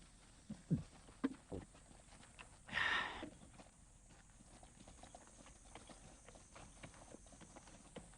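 Hooves clop at an uneven pace at a distance, with a few louder knocks and a brief rush of noise in between, fairly faint overall.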